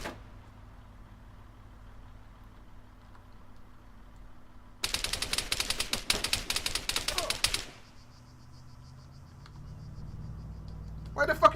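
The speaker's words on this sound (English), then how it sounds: "Why the fuck are you shooting at me?" A rapid burst of gunshots fired by police at an unarmed man rattles out for about three seconds in a fast, loud volley, with a low engine idling before and after.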